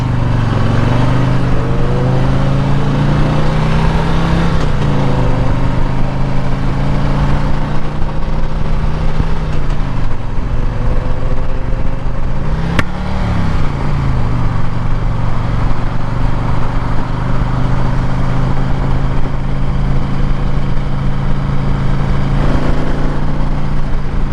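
A Harley-Davidson Screamin' Eagle Electra Glide motorcycle engine runs steadily throughout, a loud, close, continuous low rumble with mild swells in pitch and no talk over it.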